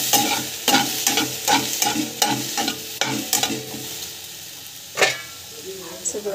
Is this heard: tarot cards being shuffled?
no